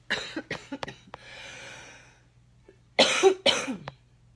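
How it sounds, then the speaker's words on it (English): A bout of harsh, close coughing from a sick person: several quick coughs, a wheezy breath, then two more heavy coughs. "I'm going to have a coughing fit."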